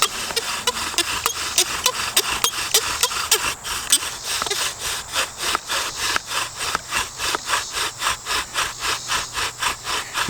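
A bow drill spindle spins on a wooden hearth board, a loud, steady back-and-forth rasping friction that speeds into quick, even strokes, with no talking.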